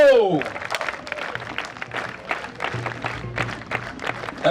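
A crowd claps at the Boscoree 2018 peace rally inauguration, with steady, crackling applause following a loudspeaker voice at the start and continuing evenly to the end.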